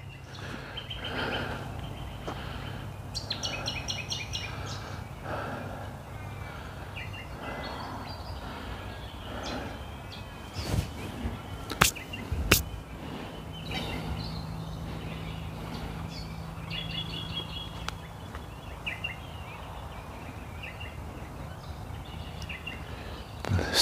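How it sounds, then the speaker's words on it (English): Birds chirp and call outdoors near the water during bream fishing, small tweets scattered over a steady low hum and background noise, moderately distant, with a few sharper knocks midway and no speech. "So many birds around today."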